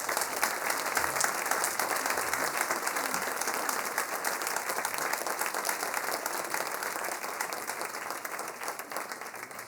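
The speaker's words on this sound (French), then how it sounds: "On peut encore les applaudir." Sustained applause from a concert audience after a piece played by wind bands at an autumn concert, dense and steady throughout with no voices over it.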